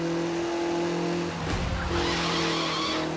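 An Audi TT RS doing a burnout in the racing game The Crew 2, with loud sustained tire squeal and skidding over a steady droning engine hum, swelling into a harsher screech partway through.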